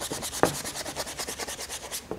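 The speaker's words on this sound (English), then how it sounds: "Now here I'm just scrubbing it in," A watercolor brush scrubs paint onto tan paper in quick repeated rubbing strokes, a soft scratchy rasp that pulses at a steady rhythm, close and fairly quiet, with no talking.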